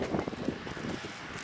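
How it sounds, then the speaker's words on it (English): Wind gusting outdoors in Meghalaya, buffeting a nearby microphone with low rumbling, uneven blasts over a short stretch, no voices. "it's a bit windy here"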